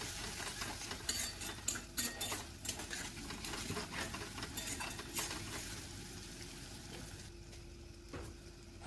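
Ground spice masala with turmeric, chili, coriander and a pinch of sugar fried and stirred in a pan for palak paneer: quiet sizzling with repeated spatula scrapes and clinks, busier early and thinning out later.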